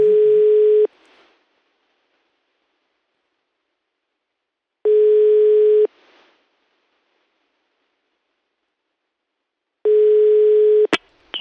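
A telephone line rings out while a radio show places a call: three long, steady electronic tones, each about a second, separated by several seconds of silence, loud and alone.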